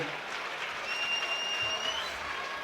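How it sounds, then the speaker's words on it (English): Audience applause for two fighters after a five-round bout at an MTGP7 fight event, a continuous spread of clapping from a crowd at moderate level, with a faint steady tone running through part of it. "ladies and gentlemen, a big round of applause for both of these men after 5 excellent rounds of action."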